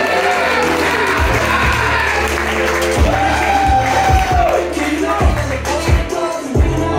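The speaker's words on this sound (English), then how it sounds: "let's hear a round of applause for your first comedian of the night, Phil Guts." A comedy-club audience applauds, cheers and whoops as the first comedian of the night is welcomed. Loud, sustained crowd noise is broken by scattered shouts.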